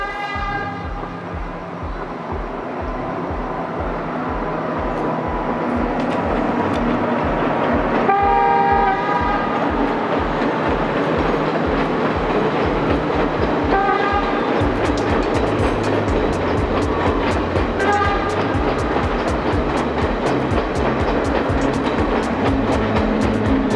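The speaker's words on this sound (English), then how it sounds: "Another train was coming through, and we wanted a view as it passed over the famous Nine Arches Bridge." A train rumbles across the Nine Arches Bridge, its wheels and carriages droning loudly and continuously, with several short horn toots sounding along the way.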